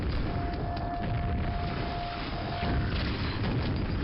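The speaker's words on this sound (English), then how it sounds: "So that explosion is in fact real." A loud, rumbling explosion from the Quake mod Arcane Dimensions fills the clip with a dense roar and a faint tonal hum, steady throughout and heard alone.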